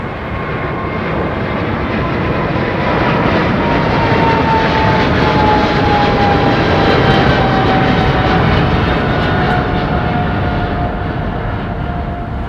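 A departing aircraft at London Heathrow roars loudly and steadily for the whole stretch, a broad engine rumble with a faint whine drifting slowly downward in pitch as it passes overhead.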